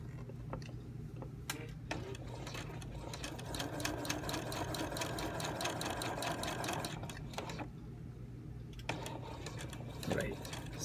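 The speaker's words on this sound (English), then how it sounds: "Very long stitches. Very long stitches." A domestic sewing machine runs steadily, stitching very long stitches on an A-line skirt's lapped center-back zipper, its rapid mechanical ticking continuous through most of the clip before pausing near the end.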